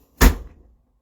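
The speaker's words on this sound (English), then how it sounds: "Door closed on you like that." A single door swings shut with one short, solid thunk that fades quickly into silence.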